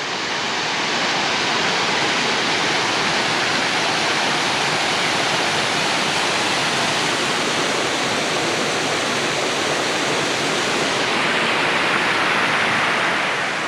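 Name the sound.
Cataract Falls waterfall, Mt. Tamalpais state park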